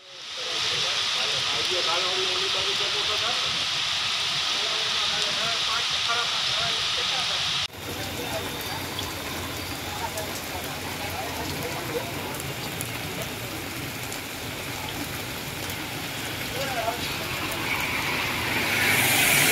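Rain falls steadily on Jamnagar, a dense hissing wash that runs throughout and grows slightly louder near the end, with an abrupt change in tone partway through.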